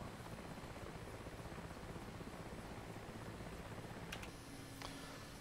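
Mi-8 helicopter in the DCS flight simulator game, a steady, dense rotor and turbine drone throughout, loud and unbroken with a faint high whine and a few brief clicks near the end.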